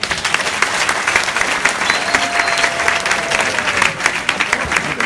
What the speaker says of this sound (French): Applaudissez-vous vous-même.